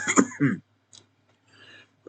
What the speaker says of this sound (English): Of course, I'm already coughing